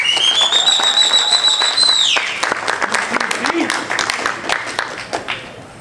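At a boxing press conference an audience applauds Gervonta Tank Davis as he is introduced, a loud dense wash of clapping under an amplified announcer's voice and a rising electronic tone that cuts off, the clapping then thinning out into scattered claps.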